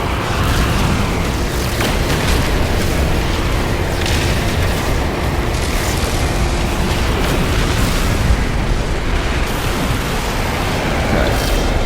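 Pirate ship cannon fire in the No Man's Sky video game, a loud, dense barrage of booming explosions rolling on continuously with no pause and no voices.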